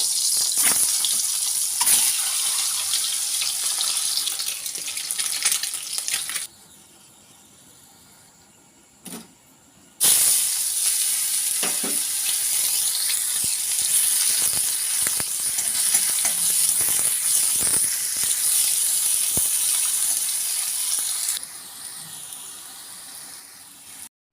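Onions with ginger, cumin, chilli and garlic paste fry in a pan, a loud continuous sizzle that drops away twice to near quiet before roaring back, with scattered clinks and scraping stirs.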